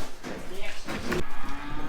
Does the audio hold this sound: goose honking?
no